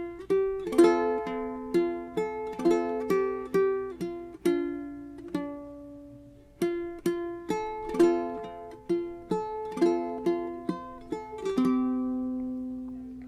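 Ukulele played fingerstyle, opening bar of the hymn "Yet Not I But Through Christ In Me": clean plucked notes in a steady, gentle melodic pattern, close and alone, with a short pause midway before the phrase repeats.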